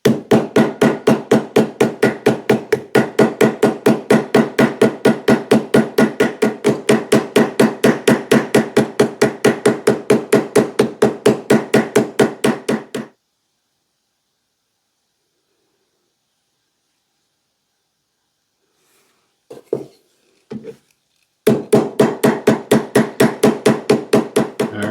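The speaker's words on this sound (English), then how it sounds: "find something that is a metal anvil of sorts and pin these over." Rivets are hammered over on a metal anvil while an axe sheath is put together: a rapid, steady run of sharp, loud metallic strikes, then a long silence, a couple of isolated knocks, and another fast burst of blows.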